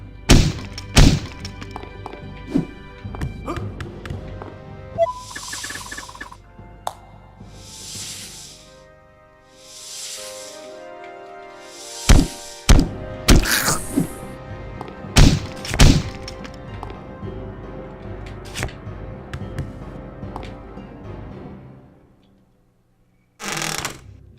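Heavy wooden thunks and cracking smashes of a mace hitting barrels in UnEpic ring out in quick bursts, several blows landing close together over a low game soundtrack.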